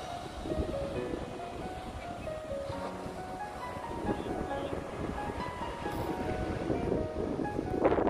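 Waves crash against the rocks at Castle Point lighthouse in a constant, rushing roar of surf, mixed with gusty wind buffeting the microphone; faint voices sit underneath.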